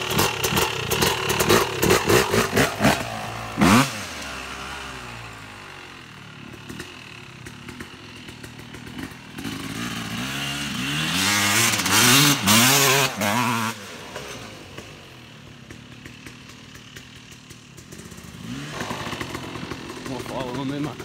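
Yamaha YZ250 two-stroke dirt bike fitted with a Rekluse auto clutch, idling in neutral with a raspy buzz, blipped into sharp revs a few times, while someone talks over the engine.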